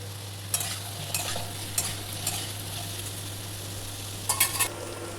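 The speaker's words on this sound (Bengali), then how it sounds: "আলুগুলোকে একটু বড় বড় করে কেটে একটু ভেজে নেব ভালো মতো" Chunks of potato fry with onion in a pan for aloo posto, a soft low sizzle running underneath as a spoon scrapes and stirs, giving several brief clatters that come close together near the end.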